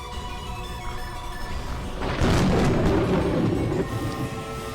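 A big explosion effect in the visual novel Umineko, a falling crimson tower bursting in gold, starting as a sudden loud boom midway and rumbling on with a dense, sustained roar over a quieter background.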